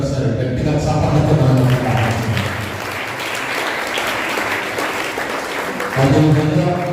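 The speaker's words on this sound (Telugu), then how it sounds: "రెవరెండ్ ఫాదర్ సమటూరు సురేష్ గారిని ఒకసారి గట్టిగా చప్పట్లతో" A church congregation at a Holy Mass applauds with a steady wash of clapping for several seconds, while a voice on a loudspeaker talks over the start and end.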